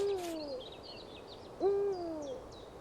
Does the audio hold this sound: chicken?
no